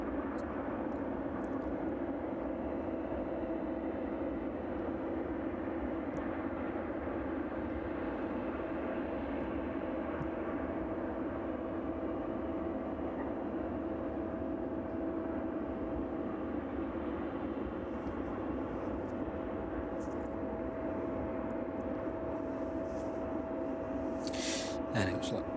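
A steady, loud, low drone from aircraft at East Midlands Airport on a chilly evening runs unbroken throughout, with a faint hum above it and brief faint clicks near the end.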